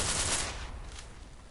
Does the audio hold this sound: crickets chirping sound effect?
no